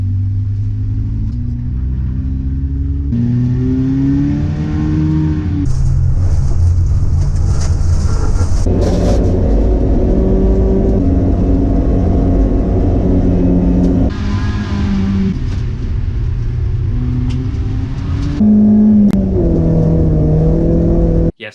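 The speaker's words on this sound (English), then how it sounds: "So ice racing is taking full-size cars and putting them on a frozen lake" Full-size race cars on a frozen lake at an ice race, engines revving and droning loudly with rising and falling pitch, layered over a steady rumble.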